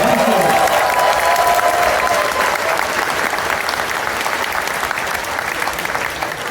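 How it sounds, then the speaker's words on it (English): Loud, sustained clapping from an audience at the ConFuzzled 2024 convention opening ceremony filling the whole clip, with a short voice at the start and faint cheering mixed in. "But a big round of applause, that was amazing."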